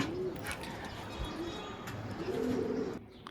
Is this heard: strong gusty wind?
no